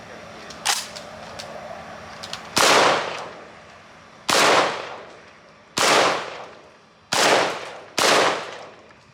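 A Garaysar Fear 105 12-gauge semi-automatic bullpup shotgun fires five loud, sharp blasts outdoors at roughly one-and-a-half-second intervals, each followed by a decaying echo, after a few faint clicks of handling.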